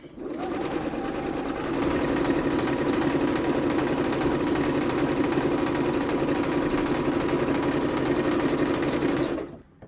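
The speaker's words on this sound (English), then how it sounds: "And now I'm going to sew on the other side." Sewing machine stitching a quilt block, a loud, steady mechanical whirr that runs close and continuous for nearly ten seconds, then stops abruptly.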